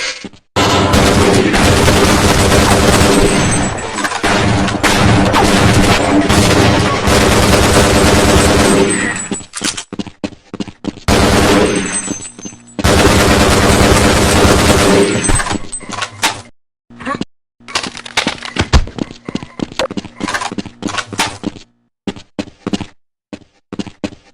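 Weapons fire in the video game Half-Life: Blue Shift, with loud, dense bursts of automatic shooting broken by short pauses and scattered single shots and thuds toward the end.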